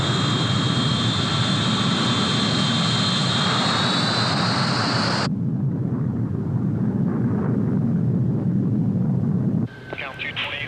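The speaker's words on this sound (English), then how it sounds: "you're cleared for takeoff" Airliner jet engines roar loudly and steadily through a takeoff roll, with a high whine that cuts off partway through while the low rumble continues and a voice comes in near the end.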